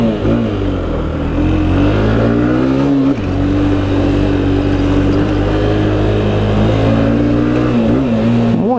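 A Bajaj Discover 125ST motorcycle engine drones loud and steady on a test ride, its pitch rising and falling with throttle, briefly dropping around a gear change before climbing again, with road rumble underneath and no talk.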